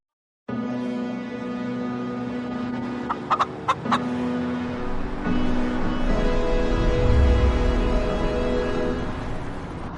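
Chickens clucking on a one-acre rooftop farm in Queens, New York, with a few sharp clucks standing out over a steady, close background hum and rustle.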